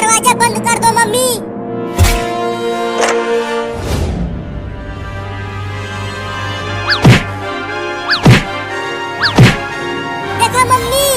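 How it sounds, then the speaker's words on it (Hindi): A cartoon cat bangs against a door in a handful of loud, sharp thumps at irregular intervals, with animated voices and a sustained tonal background between the hits. "वो कमीनी बिलार दरवाजे को कैसे मार रही है, लगता है जैसे तोड़ ही देगी"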